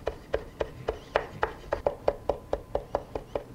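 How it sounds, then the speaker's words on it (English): A knife chops fresh dill on a cutting board in about fifteen quick, evenly spaced cuts, crisp and close. "Then chop the dill, separate the leaves from the stem"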